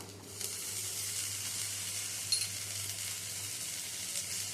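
A steady, close sizzle of rice frying in a hot pan, continuous and even with faint stirring scrapes, no voices.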